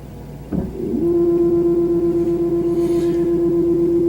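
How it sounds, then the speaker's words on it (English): Motor of a DISH satellite dish mounted on an RV, starting with a click and then spinning to calibrate. It gives a loud, steady whirring drone with a sustained tone that holds unchanged for several seconds. "And it's spinning to calibrate itself."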